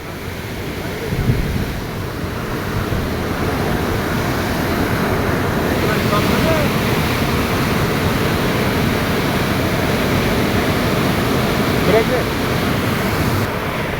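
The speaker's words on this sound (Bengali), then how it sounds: "আর এত স্রোত যাচ্ছে" Strong water current rushes through a sluice gate at Birganj, a loud, steady roar of churning water that fills the whole clip, with some wind buffeting the microphone.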